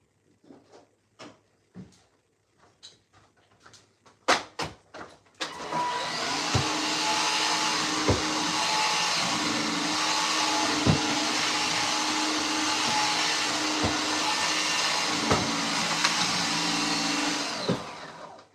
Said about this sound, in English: Right, we're going to just hoover this quickly